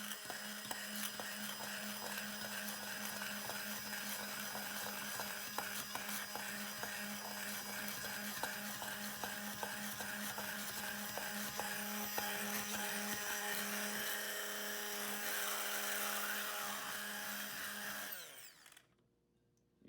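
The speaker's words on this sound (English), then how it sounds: "Just mix it super well." Mayonnaise base of vinegar and Dijon mustard being whisked in a bowl, likely with an electric mixer or blender: a steady, loud, continuous motor whir with rattling, running for about eighteen seconds, then stopping abruptly.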